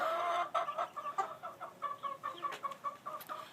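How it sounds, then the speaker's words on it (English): Chickens cluck in quick, repeated bursts close by while drinking from a PVC pipe waterer, a steady rhythmic series of short calls with no talk. "one of the chickens is already drinking from it"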